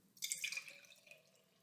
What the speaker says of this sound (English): Now I'm going to pour it into my second container, my milk jug, my milk bottle.